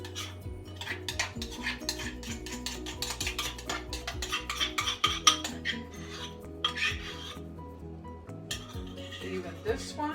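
A spoon scoops avocado dip and spreads it into a dish while layering a seven-layer dip, giving repeated close scraping and soft clinks against the dish over a steady background hum.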